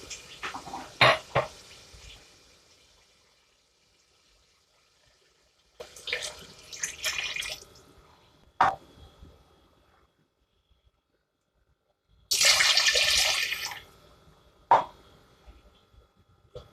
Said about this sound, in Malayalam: നമുക്കിതിലേക്ക് നേരത്തെ എടുത്ത് വെച്ചിട്ടുള്ള വെള്ളം ഒഴിച്ച് കൊടുക്കാം